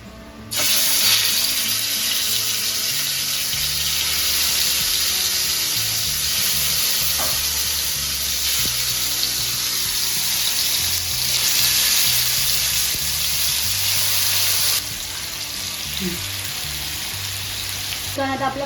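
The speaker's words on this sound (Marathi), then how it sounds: "चिकन आता आपलं फ्राय होणार आहे." Chicken sizzles steadily in a hot pan at home, a broad continuous frying hiss running close and loud for most of the stretch, with occasional stirring clinks and a brief drop in intensity near the end.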